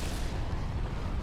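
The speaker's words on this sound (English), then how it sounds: "so much for testing the new cannon." A starship cannon fires in Star Wars Thrawn's Revenge, a single heavy, low rumbling blast that fills the short moment with a dense, booming roar.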